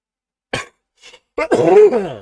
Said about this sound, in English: I'm not coughing as bad as I did before